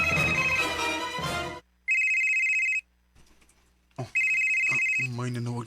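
A telephone rings with an incoming call in two clear electronic bursts separated by a short gap, loud and close, with people talking just before and after.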